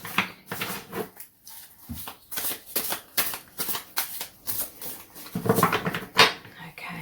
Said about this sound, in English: let me just shuffle this back into the deck